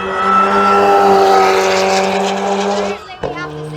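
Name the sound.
V8 race car engine at Goodwood circuit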